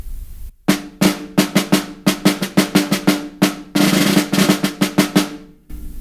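A snare drum plays a rhythmic concert passage of short buzz strokes and sustained buzz rolls, crisp and close, with brief gaps between phrases.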